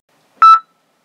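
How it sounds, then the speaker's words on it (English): A single short electronic answering machine beep, loud and clean, lasting about a quarter second and then silence. "So leave your message after the beep."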